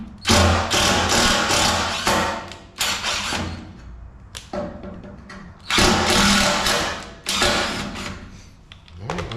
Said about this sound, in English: So now I'm just gonna take my screws